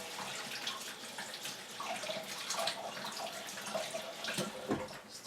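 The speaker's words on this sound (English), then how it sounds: "Alright, I am going to run some water over these though." Water from a kitchen tap runs steadily over peeled hard-boiled eggs, splashing and gurgling in the sink with small drips, close and continuous without speech.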